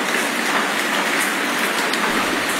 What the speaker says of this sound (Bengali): অনেকক্ষণ ধরে বৃষ্টি হচ্ছে, কিন্তু বৃষ্টি থামার কোনো কথাই নেই।